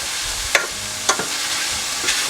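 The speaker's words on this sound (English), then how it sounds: "start scraping up some of the little bits on the bottom of the pan" A utensil scrapes the bottom of a frying pan where onions are cooking for a chicken, mushroom and wine sauce, giving a few short scraping strokes over a steady low sizzle.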